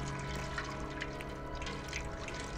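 A cat laps water in the video game Stray, a soft, steady watery trickle and splash running throughout at moderate level with no talk over it.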